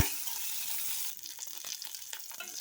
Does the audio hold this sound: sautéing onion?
yes